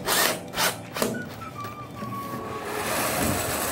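A power screwdriver drives a self-tapping screw through perforated mounting tape into a ceiling baguette profile during stretch-ceiling work on a loggia, giving a few short close whirring bursts in a quiet room.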